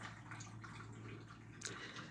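A stream of water poured onto coffee, a steady close trickle and splash with faint drips under a low background hum, quiet and continuous, with no talking.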